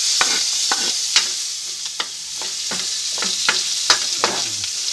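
Onion and garlic sautéing in a pan with pork, a bright continuous sizzle broken by repeated scraping stirs at an uneven rhythm, close and clear, no talking.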